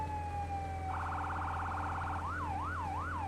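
Ambulance siren in the Firefighting Simulator video game: a steady tone gives way to a fast warbling yelp, then slow rising-falling wails, loud and continuous over a constant low engine hum, with no talking.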